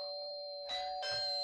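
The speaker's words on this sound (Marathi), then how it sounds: "अरे दारावरची बेल वाजते," A doorbell on a house door in a Marathi stage play sounds a clear two-tone ding-dong, ringing close and alone.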